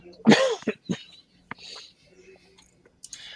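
A few harsh coughs up close, followed by a throat clear and some quieter breathy sounds, with brief pauses between the bursts.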